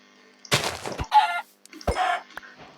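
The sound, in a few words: chicken clucking in the video game Minecraft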